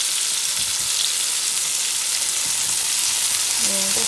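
Onion and BBQ garlic frying in a pan for BBQ meatballs: a steady, close, dense sizzle continues throughout, with faint stirring near the end.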